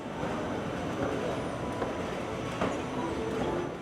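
The express train to Kuala Lumpur International Airport rolls along with a continuous rumbling ride noise and faint rhythmic clacks, steady and close, with no talking.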